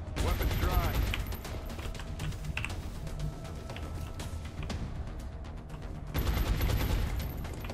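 Sustained automatic gunfire from soldiers laying down suppressing fire in the game XCOM: Enemy Within, loud rapid bursts and clattering shots packed densely throughout, intensifying again near the end, with brief talk mixed in.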